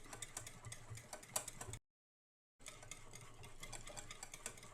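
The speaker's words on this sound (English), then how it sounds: "Basically just whipping air into the cream." A handheld electric mixer whips cream toward stiff peaks, giving a steady mechanical whir with faint ticking, broken by a short pause before it resumes.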